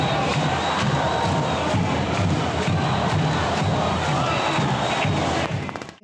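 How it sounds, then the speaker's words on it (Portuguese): Large street protest crowd in Belém, Pará, shouting Fora Bolsonaro, a dense sustained roar of many voices chanting and cheering throughout, loud and close, fading at the very end. "O grito de Fora Bolsonaro também tomou as ruas de Belém, do Pará."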